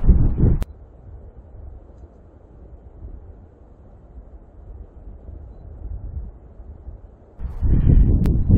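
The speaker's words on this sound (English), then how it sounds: "It is windy up here," Wind gusting across an exposed mountain summit in New Hampshire, a low steady buffeting rumble close to the microphone, with louder bursts at the start and end.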